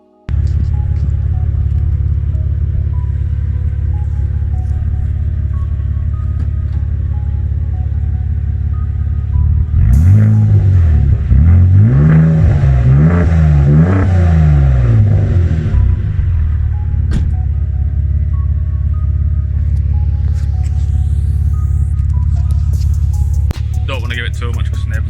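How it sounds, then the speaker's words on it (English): A Vauxhall Vectra VXR with a 2.8 V6 turbo engine idles with a steady low rumble, then is revved several times in a rising and falling pattern before settling back to idle, close and loud. "Should we give it a cheeky rev?"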